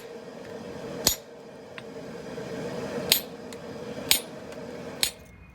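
Hammer striking a flatter on hot steel while forging a San mai knife, four sharp ringing metallic hits spaced about a second apart over a low steady forge hum.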